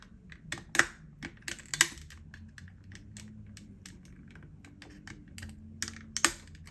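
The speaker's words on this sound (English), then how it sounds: "Use a screwdriver and gently pry it out." Screwdriver prying a stubborn weight out of a Tyco Power Torque SD24 diesel toy locomotive, with quiet clicks and small scraping taps of plastic and metal, a few sharper snaps standing out.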